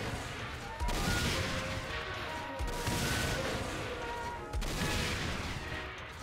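Three loud bursts of Fortnite gunfire ring out at roughly even intervals over a dense, noisy background.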